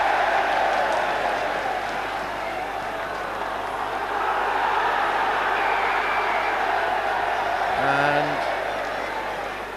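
A rugby league crowd at a Hull versus Bradford match in 2000 jeering the referee, a steady loud stadium roar under a voice talking over it, with a short tonal hoot near the end.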